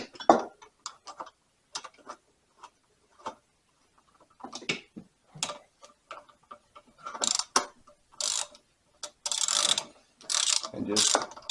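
Bolts on a Briggs & Stratton 18hp opposed twin engine cover are run down with a ratchet, short bursts of quick clicking separated by pauses, close and crisp, with no talking.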